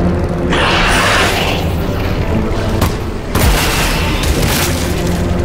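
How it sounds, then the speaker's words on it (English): In the video game Half-Life Alyx, fireworks burst in heavy booming explosions, a loud rumbling blast, a brief dip, then another sharp crack followed by sustained crackling roar. "Fireworks!"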